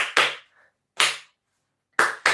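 Sharp hand claps ring out close and loud in an uneven pattern, two quick, one alone, then two quick, beating out the rhythm of Happy Birthday with silence between.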